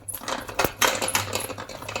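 Cooked tapioca being stirred in a pan with bird's eye chillies and garlic, giving scraping, clinking utensil strikes against the pan in an irregular rhythm, close and fairly clear.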